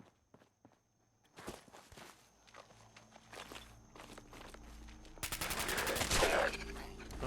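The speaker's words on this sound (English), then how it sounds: "I missed every shot there." Gunfire in the video game Fallout 4, a few scattered shots early on, then a loud, dense burst of rapid fire near the end over footsteps and ambient game noise.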